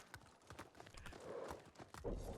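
A horse in the samurai game Ghost of Tsushima clip-clops along in quick, uneven hoofbeats, faint and close, with soft rustling underneath.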